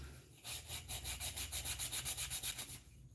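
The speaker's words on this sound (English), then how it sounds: "180 grit, and I like the netted sandpaper" Wood being hand-sanded with 180-grit netted, fabric-like sandpaper: a run of about fifteen quick, even back-and-forth rasping strokes, close and clear, with no talking.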